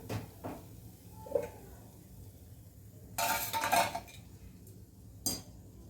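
Fried ridge gourd bhaji lifted out of a pan in a home kitchen: scattered metal scrapes and clinks of a utensil against the pan. A louder rattling cluster lands midway and a final clink comes near the end, with faint sizzling between.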